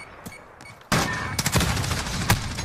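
Gunfire rings out in an online shooter match in search mode. A loud burst of several rapid shots follows a quiet start, with more scattered cracks after it.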